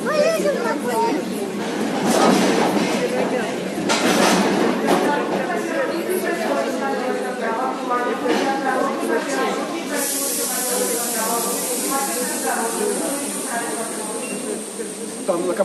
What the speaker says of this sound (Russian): локомотив отцепили